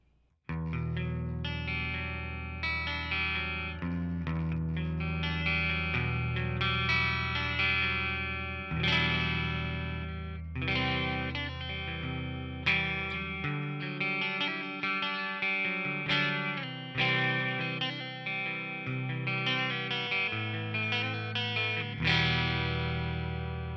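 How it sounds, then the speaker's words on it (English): Electric guitar played on the clean channel of a Marshall DSL100H amp head with reverb added, a continuous run of chords and single notes ringing out with a wash of ambience, close and full, no voices. "So first up right now is going to be the clean tone."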